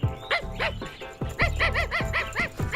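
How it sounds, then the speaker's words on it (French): A cartoon dog barks in a quick run of sharp, yappy barks, close and loud, with no talking. "Mais c'est un vrai kleps galeux."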